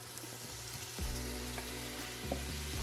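Sausage frying in hot olive oil gives a steady sizzle that jumps louder as the pieces go in, with occasional stirring clatter and no voices.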